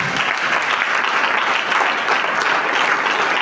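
Loud, sustained applause from a church congregation fills the space, a dense, even wash of clapping with no break from start to finish.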